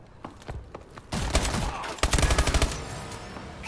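Gunfire in a Call of Duty match: a few scattered shots, then two close bursts of rapid automatic fire in quick succession, loud and sharp against quieter game ambience.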